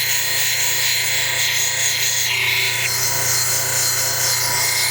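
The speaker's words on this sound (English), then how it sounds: "I'm going to bring it all down even to the same level there. All the way around, bevel the stone down." Steady, loud grinding and rubbing as a turquoise cabochon stone is beveled on a grinder, a continuous abrasive hiss over a constant motor hum with no talking.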